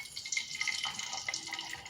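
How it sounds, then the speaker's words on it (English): Eggs sizzle in hot oil in a stainless steel pan, a soft crackling hiss with small pops. The sound is fairly quiet and steady. "You get that sizzle"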